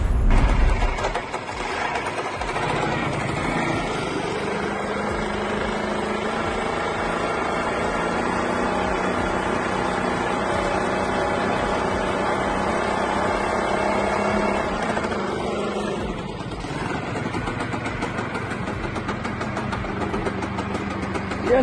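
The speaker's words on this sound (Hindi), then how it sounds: "इस बंदे ने स्कूटर से ही कंस्ट्रक्शन लिफ्ट क्रेन बना दी है" A scooter engine powers a makeshift construction lift crane, running steadily and loudly with a continuous mechanical drone and rattling gear noise, briefly dipping in load partway through before resuming.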